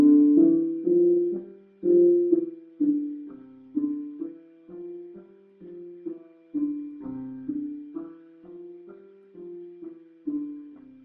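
A five-finger piano exercise in C position runs up and down several times in a row at a steady, unhurried pace. Each note is struck individually and rings clearly with moderate loudness.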